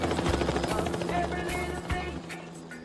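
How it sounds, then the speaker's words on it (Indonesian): Helicopter caught in a violent storm at sea, a movie sound effect: a loud, dense rotor roar with rhythmic low thumping, dramatic crashes and bursts layered over it, dominant throughout. "tiba-tiba badai menghantam helikopter mereka. Helikopter pun hancur dan mereka semua terjatuh ke laut"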